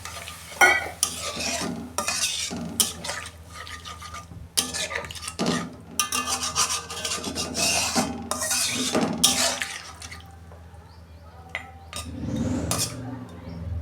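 Chicken kosha cooking down in a pan with a splash of water, with close spoon scrapes and stirring strokes over a soft sizzle and occasional clinks of metal on the pan.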